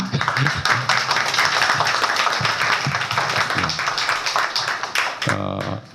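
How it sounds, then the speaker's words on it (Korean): Audience applause at an architects' association general meeting, a dense patter of clapping from a seated crowd lasting several seconds, then fading as a brief tonal sound enters at the end. "박수 한번 쳐주시죠, 우리."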